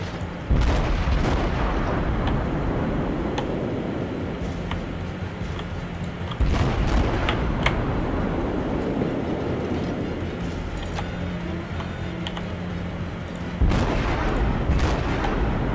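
Naval artillery booms in World of Warships, heavy gun salvos firing every few seconds over a constant rumbling engine and sea drone, loud and close.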